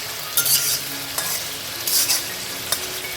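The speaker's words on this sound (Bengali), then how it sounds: "মশলার সাথেও এটা কিছুক্ষণ আমি কষিয়ে নেব" Squash sautés with spices in a pan, a steady close sizzle punctuated by four crisp bursts of stirring and scraping spread through the moment.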